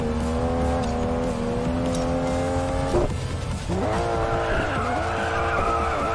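A car skids and drifts in the Racing Master video game, with a sustained tire squeal and steady engine drone that briefly drops out and then returns with shifting pitch, loud and continuous.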